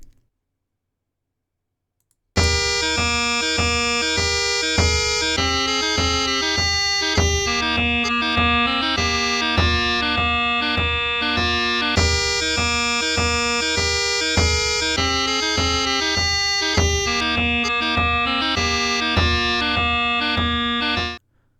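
Bagpipe tune played by Celtic Pipes software with an added repeating part, beginning after a brief silence with a steady drone and bright, rapid chanter notes, loud and continuous to the end.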